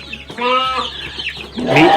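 Chickens cluck and a rooster calls nearby, loud squawky vocalizations overlapping in a busy coop.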